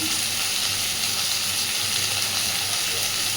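Chopped tomato frying and being stirred in a pan with onion for onion-poppy-seed curry, a steady close hiss of sizzling oil that holds evenly throughout with no talk.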